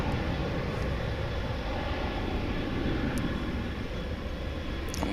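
An American Airlines airliner in heritage livery passes at Dallas/Fort Worth International Airport, its engines giving a loud, steady broadband roar that holds for the whole stretch with no talk over it.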